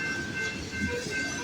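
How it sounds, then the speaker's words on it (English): A westbound loaded grain train rolls past, led by a KCS locomotive with a CP unit trailing and a distributed power unit at the rear, giving a steady, fairly loud broadband rumble with a faint sustained tone and no pauses. "This is a westbound loaded grain train"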